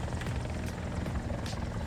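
An enemy helicopter in the War Thunder combat game, heard during a ground realistic battle, throbs loud and close with a steady rotor chop and engine whine that runs unbroken throughout.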